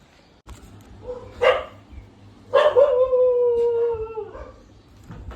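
A dog gives a couple of short yelps, then lets out a long, wavering howl-like whine, fairly close and loud.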